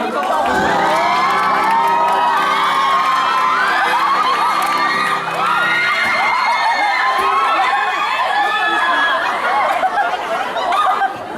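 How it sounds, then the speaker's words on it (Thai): A lively crowd cheers and whoops loudly for several seconds, with shrill voices and a held musical tone underneath at first. "ขอเสียงให้พี่อรุณพงศ์หน่อยครับ"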